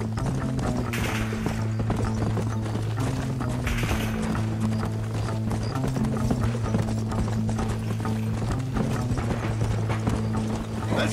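Horse hooves clip-clopping steadily in the Red Dead Redemption video game, a continuous trotting rhythm over a low droning music bed, with no talk.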